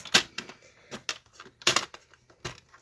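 A paper trimmer scores and cuts paper for a 3D lantern, giving a series of sharp, close clicks and scraping strokes in an irregular rhythm, with no talking.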